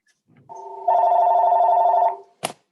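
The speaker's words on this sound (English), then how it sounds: "I can't talk with the ringing in the background" A telephone rings during a city council meeting, giving one sustained electronic tone that lasts over a second, followed by a short sharp click, loud and close, with no talking.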